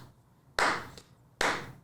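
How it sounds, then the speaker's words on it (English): Two sharp, loud hand claps about 0.8 seconds apart, struck close up to sync a podcast recording, each a bright broadband snap with a short decay into a quiet room. "I'll just clap it in."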